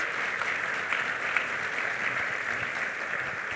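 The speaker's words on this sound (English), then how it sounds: "Please give her a large round of applause." An audience at a university-industry-government collaboration forum gives steady, fairly distant applause welcoming Ann-Christine Adolfsson to the stage, an even wash of clapping throughout.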